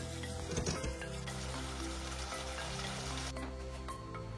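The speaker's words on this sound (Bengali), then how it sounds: "এরপর আমি অ্যাড করে দিচ্ছি হাফ কাপ পরিমাণে জল, যাতে মশলাগুলো পুড়ে না যায়" Spices frying in a pan for a Bengali doi katla fish curry give off a steady, close crackling sizzle after half a cup of water is poured in, with a few brief clatters near the start.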